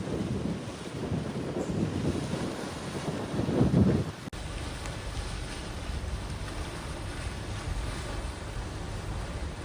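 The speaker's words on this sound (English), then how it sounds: "You might hear a little bit of wind." Steady wind buffeting a microphone in a windy Alaskan fjord, a dull low rumble with gusts swelling louder early on, then a constant rush without talk.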